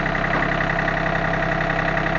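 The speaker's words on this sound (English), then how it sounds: "Had to move the tractor over." A tractor engine runs steadily nearby, a constant mechanical drone with a dense, even hum and no talking.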